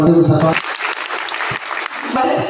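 Audience applause at a talk by ISRO scientists, a broad burst of clapping that rises, thins out, then swells again near the end, with a speaking voice over the start.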